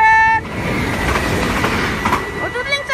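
A train passes close by in Roermond, a loud steady rumble and rattle of railcars with clattering wheels, while a horn-like tone sounds at the start and end.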